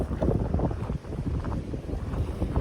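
Strong sea wind at a beach in Cavite City buffets the microphone in a low, continuous roar, gusting unevenly with a faint wash of sea behind it.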